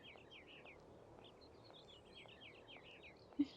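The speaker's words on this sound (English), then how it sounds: "Do I hear birds?" Faint, repeated bird chirps sound at a distance over a soft outdoor background hum, with no talking.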